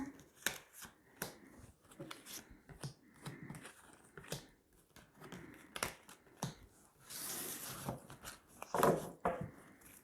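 Tarot cards being spread and drawn on a table, with quick close swishes, soft slaps and sliding flicks in an irregular rhythm, one longer rustling sweep near the end, no speech.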